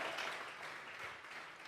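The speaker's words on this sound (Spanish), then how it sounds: "Vamos a regalarle ofrenda de palmas al Dios de la gloria." Church congregation clapping as an offering of palms during a Sunday service, a dense, steady burst of applause heard alone and fairly quiet.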